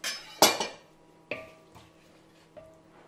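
Cutlery and a pot clink and scrape as cooked cabbage is added to mashed potatoes in a dish: a sharp clatter, then a few lighter, spaced knocks in a quiet kitchen.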